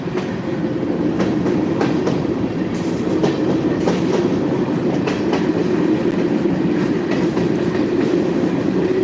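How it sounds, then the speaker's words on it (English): A train rolls past nearby with a continuous rumble and rhythmic clickety-clack of wheels over rail joints, loud and unbroken throughout. "That is one long train."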